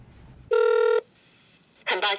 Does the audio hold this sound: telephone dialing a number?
yes